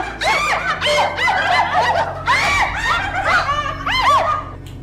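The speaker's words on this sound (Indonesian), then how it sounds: "Mah, siapa tuh yang teriak-teriak?" Someone screaming repeatedly in short shrill bursts, loud and close, with a sustained low hum underneath.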